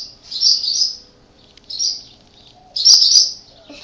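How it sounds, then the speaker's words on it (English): A bird chirping outdoors in three bright, high-pitched bursts of rapid twittering separated by short quiet gaps, close and loud, no talking. "Bird's gonna dive bomb him in a minute."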